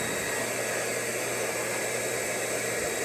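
UPROOT CLEAN 7 in 1 grooming kit pet dryer running with a little heat: a steady, close, loud whooshing blower hiss with a faint motor hum, unchanging throughout.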